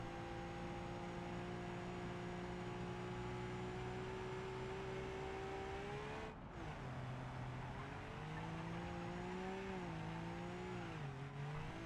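A light kei truck drives through a tunnel, its small engine droning steadily and close with shifting pitch as it revs, a brief dip midway, enclosed and continuous.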